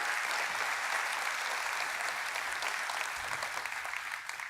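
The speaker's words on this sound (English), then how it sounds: "let's give Dylan a big round of applause" A large keynote crowd at a tech conference applauds, a broad, even wash of clapping heard at a distance that holds steady and then begins to thin out toward the end.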